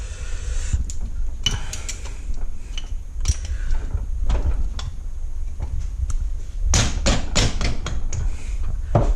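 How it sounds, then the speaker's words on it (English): A rubber mallet taps on the engine parts of a 1988 Suzuki RM 125 during teardown, producing scattered close, dull knocks and thuds, some in quick clusters, over a low background rumble. "Even on this, I still use a rubber mallet."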